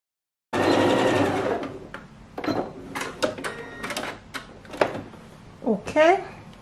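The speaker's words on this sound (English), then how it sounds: "you're going to take it to your sewing machine and then you're going to stitch from the facing here all the way down to the hemline" Sewing machine stitching a side seam of a cowl neck slip dress from the facing down to the hemline, a loud close burst of motor whirr at first, then short stop-start runs with clicks and rattles.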